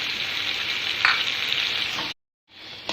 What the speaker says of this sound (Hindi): 2 से 3 मिनट इसको भूनना है हमने,